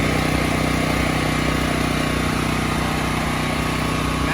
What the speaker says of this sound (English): Now that we have our generator started